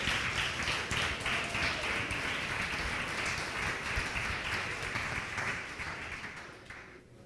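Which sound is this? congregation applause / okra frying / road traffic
congregation applause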